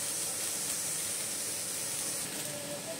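Tomatoes, garlic and chillies roasting in oil, giving a steady broad sizzling hiss that holds even and unbroken throughout with no voices.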